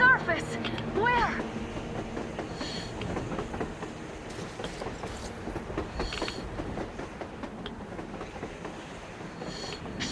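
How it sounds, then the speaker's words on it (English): A train running on the surface in Metro Exodus, a rumbling clatter of wheels and cars with occasional squeals, moderately loud and steady, with voices talking over it. "A train! A damn train on the surface!"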